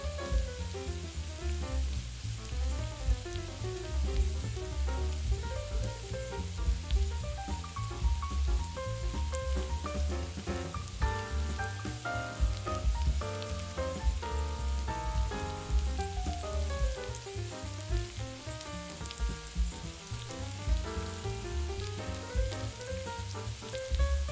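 Onion and butter sizzle steadily in a pan, a continuous dense crackling hiss at moderate level with no pauses, heard up close and alone.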